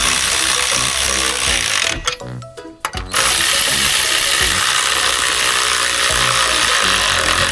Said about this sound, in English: And now you'll just tighten those up and make sure that they aren't going anywhere.